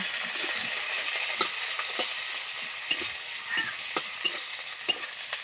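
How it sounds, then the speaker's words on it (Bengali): Onion and green chillies are stirred in hot oil in a frying pan (kadai), a constant sizzle with repeated sharp clicks and scrapes of the spoon against the pan at an irregular pace. "কাঁচা লঙ্কা পেঁয়াজ কড়াই দিয়ে দিয়েছি, নাড়াচাড়া করে নিলাম"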